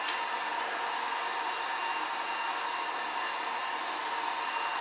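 Heat gun warming heat transfer vinyl on a tumbler, a continuous close, loud blowing roar with a steady fan whine, unchanging throughout and without any speech.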